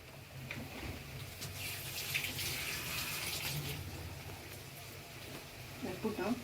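Tap water runs steadily while fresh curry leaves are rinsed for rasam in a home kitchen, a continuous close splashing hiss with people talking over it.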